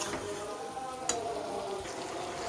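Sliced ridge gourd cooks in a pan with poppy seed, releasing water as it softens, giving a soft steady sizzle with a faint clink of stirring, quiet and close, no talking.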